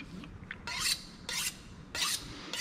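A kitchen meat-cutting knife is honed on a steel in three quick, bright scraping strokes, each a short metallic swish spaced evenly, close and crisp with no talk.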